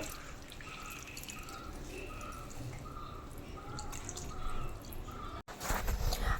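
Soaked flattened rice (avil) washed and squeezed by hand, letting water drip and trickle back into a bowl; faint, steady dripping over a quiet background, with a brief louder splash near the end and no talking.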